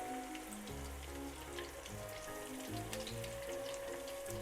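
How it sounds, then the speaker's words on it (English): Eggplant deep-frying in oil heated to around 170–180 degrees in a Japanese home kitchen, giving a steady, close sizzle and bubbling hiss throughout, with low background music underneath and no talking. "I'm going to first fry the eggplant."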